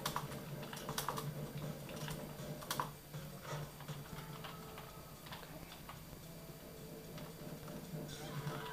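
Computer keyboard keys are tapped during a game of Unreal Gold, giving scattered light clicks in irregular bursts, fairly faint and close over a low background hum, with occasional quiet sounds from the game.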